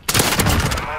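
Rapid, loud gunfire from a video game, dense overlapping blasts packed into a single second with a sharp onset and no pauses, sounding more like a burst of automatic fire than one shotgun shot.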